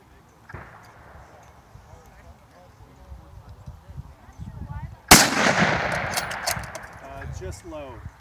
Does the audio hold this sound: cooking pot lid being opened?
no